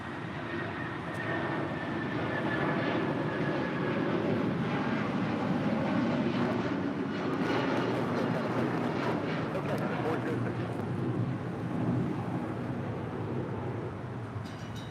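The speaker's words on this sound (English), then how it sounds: "This is United Airlines 406 departing to Denver on a 757-300." A United Airlines Boeing 757-300 jet departs from LAX, a steady broadband roar of engines holding loud through the whole stretch, with speech mixed in over it.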